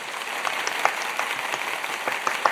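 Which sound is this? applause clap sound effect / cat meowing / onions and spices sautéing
applause clap sound effect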